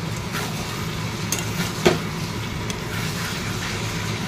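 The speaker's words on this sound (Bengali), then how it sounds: "এবার পটলগুলো দিয়ে ভালো করে কষে নিই।" Pointed gourd (potol) stir-fried in a pan, a steady low sizzle with a few faint scrapes and one sharper clink of the spatula against the pan.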